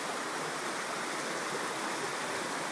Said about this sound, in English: I hear the river there.